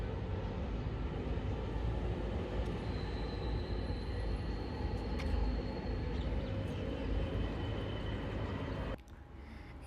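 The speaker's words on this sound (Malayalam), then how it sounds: "ഇതിലൂടെ ഈ ടൈമിൽ ഇപ്പോൾ ഒരു മെട്രോ പോകുന്നുണ്ട്." A Dubai metro train passes a station with a steady low rumble and rolling wheel noise, moderately distant, before the sound cuts off abruptly near the end.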